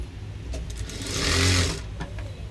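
A sewing machine runs one short burst of stitching on a blouse sleeve, whirring up, holding briefly, then winding down, close and clear with no talk.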